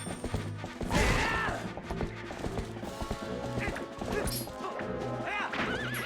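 In the video game Twilight Princess, a horse whinnies amid clip-clopping hooves, thuds and crashing hits, all mixed into busy game sound with music.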